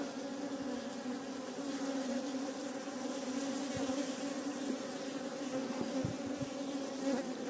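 Honeybees buzz steadily over open hive frames during an inspection, a dense, continuous droning hum close by, with a few soft knocks of handled frames underneath.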